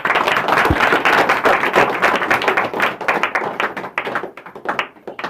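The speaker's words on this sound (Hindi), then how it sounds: "इस गवाही के लिए सभी लोग जोरदार ताली बजाइए।" An audience claps loudly at a religious testimony gathering, a dense burst of hand claps that keeps going steadily and thins out slightly toward the end.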